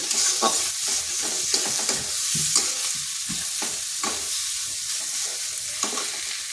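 A spicy mixture being stirred in a pan for a kids' school tiffin dish, with a steady sizzle under repeated scraping strokes of the spoon, close and fairly loud, no voices.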